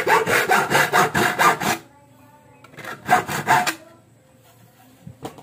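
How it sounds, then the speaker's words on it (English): A hacksaw cuts an aluminum screen door frame in quick rhythmic strokes: one fast burst, a pause, then a shorter burst, close and fairly loud. "So we will remove this one using a hacksaw rather."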